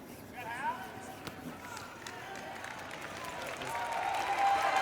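A Canadian crowd applauds at a men's world curling championship game against Germany, the clapping swelling steadily toward the end while a commentator talks over it and a high tone rings briefly near the close.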